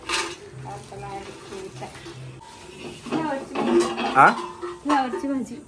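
Metal containers and dishes being scrubbed and clanked in a home kitchen, intermittent scraping and knocking strokes that grow busier and louder toward the end, with someone talking over them.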